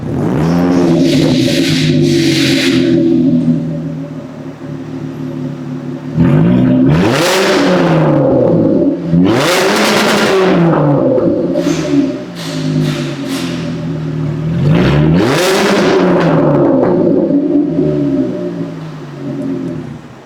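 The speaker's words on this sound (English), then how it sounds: "we're gonna drop it down, rev it up, and listen to where we're at" A Jaguar XF V6 with a custom exhaust sits at idle, then rises through several separate revs, each one a loud swelling roar that climbs and falls back to a steady idle drone, recorded close.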